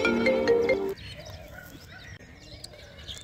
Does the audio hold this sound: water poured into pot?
no